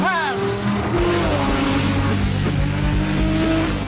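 A Lamborghini Sesto Elemento hypercar drives hard around the Imola circuit, its engine roaring loud and close with rising and falling pitch through gear changes, plus some tire noise throughout.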